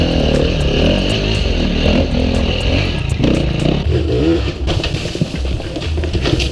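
An enduro motorcycle climbs a steep, rocky hill, its engine loud and close with the throttle constantly working, while rocks scrape and clatter under the tires.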